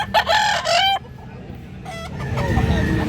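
A rooster crows loudly and close at a chicken market, one long strained call, followed by quieter clucks and market bustle. Low background murmur of people runs under it.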